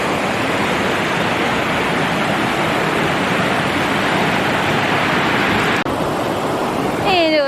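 A river rushes loudly and steadily at a backpacking crossing on Mount Rainier's Northern Loop, a broad close-up roar of water filling the whole stretch without pause.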